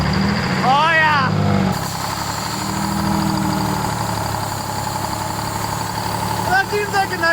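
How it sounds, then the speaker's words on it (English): A big rig truck engine idles after a cold start, a steady low rumble running through the whole stretch, close and fairly loud, with a voice exclaiming over it at the start and end. "That seems like a nice idle there"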